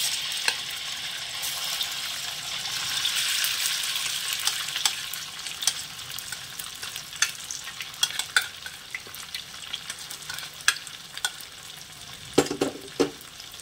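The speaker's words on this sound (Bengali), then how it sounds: "এরপরে এই যে ভিজিয়ে রাখা দুধ দিয়ে যে সুজিটা রেখেছিলাম সেটা দিয়ে দেবো।" Semolina soaked in milk fries in a pan for halwa with a steady close sizzle, while stirring scrapes and taps grow more frequent toward the end.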